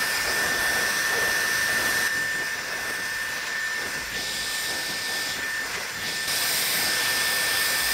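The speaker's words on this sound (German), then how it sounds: "Und dann föhne ich jetzt erstmal ganz kurz die Haaransätze." Dyson Airwrap hair dryer attachment running at full power while blow-drying hair roots, a loud steady whooshing roar with a high whine, dipping slightly in level midway as the airflow shifts.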